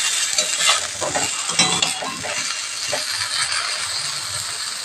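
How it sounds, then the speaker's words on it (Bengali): Eggplant slices shallow-fry in oil for begun bhapa, a soft, steady sizzle broken by spatula scrapes and small metallic clinks as the pieces are turned, with no speech. "এটা হালকা হালকা করে ভাজা হয়ে গেছে।"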